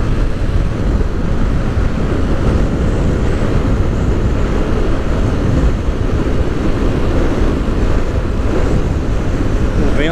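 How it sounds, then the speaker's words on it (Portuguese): Strong wind buffets the microphone continuously for the whole stretch, a loud, steady broadband roar with constant low rumble and no pauses. "O vento é demais"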